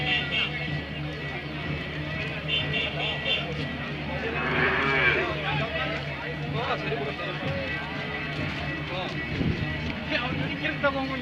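Hallikar cattle lowing now and then amid a busy crowd at a weekly village livestock market, with steady chatter and background bustle throughout.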